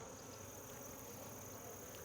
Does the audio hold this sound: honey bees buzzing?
yes